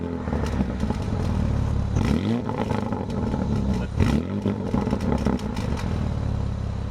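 A Porsche 3.6-litre biturbo V6 in an SUV, 440 hp, runs with a loud, steady roar that dips and surges twice as revs drop and climb again, full and close throughout with no talking.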